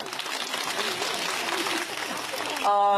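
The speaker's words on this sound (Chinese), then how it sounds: "再次把掌声送给小朋友们" An audience applauds a children's performance at a multi-ethnic community stage event, giving a dense, steady clatter of clapping for a few seconds. A short musical tone cuts in at the end.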